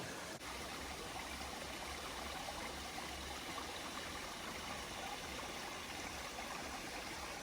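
A mountain creek in the Springbrook Mountains flows steadily, a faint, even rush and trickle of water holding the same level throughout, with no other sounds.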